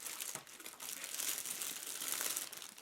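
A clear protective plastic bag wrapped around a GT Sonic 750ml ultrasonic cleaner being handled, giving soft continuous crinkling and rustling close up, quiet and without talk.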